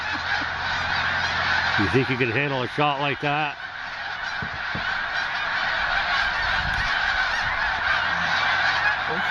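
Geese honking in a flock passing overhead during an April snowstorm, a loud burst of calls over steady wind noise, with someone speaking briefly.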